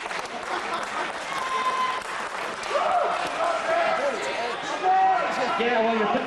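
Audience applause at a comedy show, clapping and crowd noise mixed with voices talking over it, fairly close and continuing throughout.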